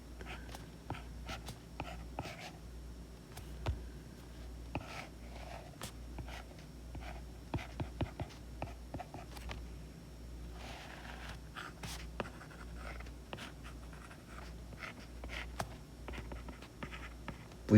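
Pen scratching steadily on paper while a circuit diagram is drawn during a circuit theory lesson, a close, continuous run of short strokes and taps over a low hum, with no talking.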